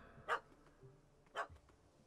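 Two sharp dog barks from The Witcher 3: Hearts of Stone, well spaced about a second apart, loud against a quiet game background with no talking.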